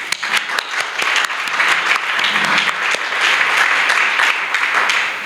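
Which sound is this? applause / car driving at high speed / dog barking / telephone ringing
applause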